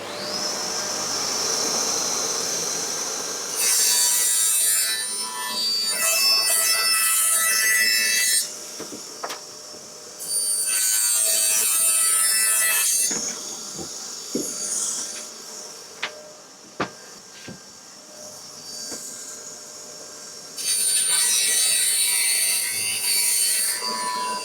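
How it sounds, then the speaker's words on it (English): A saw rips a 15mm strip from a wooden sheet, with several loud, sustained bursts of cutting separated by quieter gaps and clattering handling noises, close by with no talking. "I just need to rip a 15mm strip"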